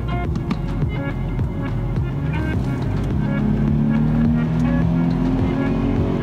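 A 2010 Mercedes-Benz S350L W221 with a naturally aspirated 3.5-litre V6 hums low and steady, then its pitch climbs gradually as it accelerates, with a throbbing rumble filling the background.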